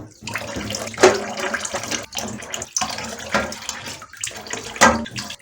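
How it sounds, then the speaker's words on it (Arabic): Chicken hearts and liver rinsed under a running kitchen tap, a steady splashing stream with louder gushes as the pieces are turned by hand, close and continuous with no talking. "تتغسل كويس قوي بميه جاريه كده"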